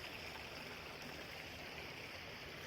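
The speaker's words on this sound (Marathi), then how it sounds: "आणि ही नदी भरून वाहते" A river swollen by heavy July monsoon rain in Konkan rushes past in a steady, dense roar of churning water, loud and continuous with no voices.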